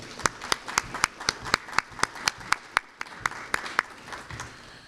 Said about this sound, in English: let's give the success students a round of applause